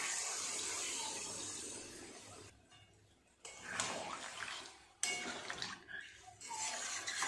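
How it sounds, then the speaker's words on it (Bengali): Water is poured in small amounts into a pan of boiled potatoes for a potato curry, making a splashing, rushing stream that breaks off and starts again in short bursts, close by and with no talk. "অল্প করে জল দিয়ে দেবো"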